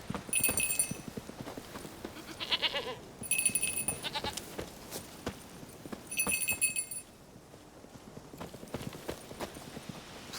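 A goat in The Witcher 3 bleats in three short, bright bursts spaced a few seconds apart, while a horse's hooves clip-clop steadily underneath throughout.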